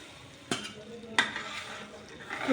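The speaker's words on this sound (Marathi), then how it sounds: "आता आपण हे डाळीचं पाणी त्यात टाकून घेऊ" Dal water is poured into fried masala with the oil separated, making Marathi amti. A steady sizzle fills the pan, broken by two sharp clinks.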